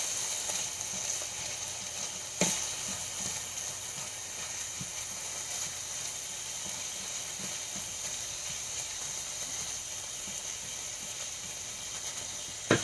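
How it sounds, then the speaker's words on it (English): Sausage sizzles in a pan with a steady, fairly quiet hiss, broken by a few sharp utensil knocks and scrapes as it is stirred, with no talk. "I'm going to stir the sausage up a little bit."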